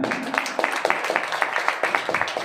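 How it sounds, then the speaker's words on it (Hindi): Audience claps for a speaker on stage at an achievers' event, sharp rhythmic hand claps in a quick, even beat, with voices mixed in throughout the short burst. "जी गुलचंद जी, जबरदस्त तालियां।"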